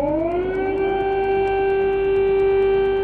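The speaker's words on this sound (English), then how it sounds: "Loud air raid sirens" A loud air raid siren in Ukraine wails steadily, rising briefly in pitch at the start and then holding one sustained tone.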